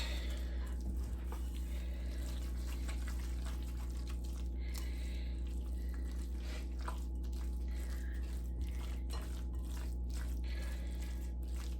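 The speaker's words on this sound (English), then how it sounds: "Now let's stir this around." A tuna fish cake mixture with panko crumbs is stirred in a bowl, giving a continuous wet squishing and soft crunching, steady and close under a low hum, with no talking.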